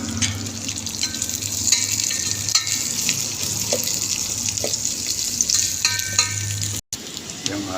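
Onion fries in a pan of garlic for beef papaitan, giving a dense, steady, close sizzle with occasional stirring clicks and a brief dropout near the end.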